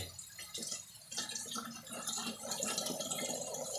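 Water running and trickling steadily into a self-watering plant pot, a soft continuous splashing and dripping, close but fairly quiet.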